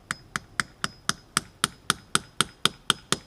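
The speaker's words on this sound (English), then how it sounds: "hammer your tap in" A hammer taps a metal spile into a maple tree trunk in a steady series of about thirteen sharp, evenly spaced knocks, fairly close and moderately loud, with no voices.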